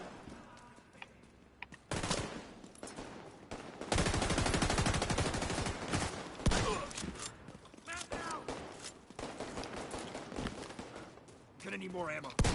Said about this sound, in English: Sometimes I gotta shoot him in the knees so I can shoot him in the face.